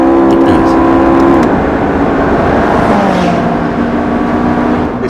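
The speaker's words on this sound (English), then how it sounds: "Nice noise from an exhaust that has had 7 kilos taken out of it" A McLaren 675LT supercar with a lightened exhaust, its engine note droning and shifting in pitch, loud and close, as someone speaks over it.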